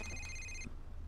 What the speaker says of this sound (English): The phone in this game.